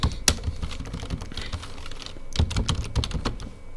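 Fingers type a SQL query on a computer keyboard, giving quick, irregular bursts of sharp clicks, close and clear, with brief pauses between runs of keystrokes.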